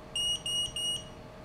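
A drone's inactivity alarm sounds from a Mobula7 FlySky Edition micro quad: three loud, steady high-pitched electronic beeps in quick even succession, heard on their own.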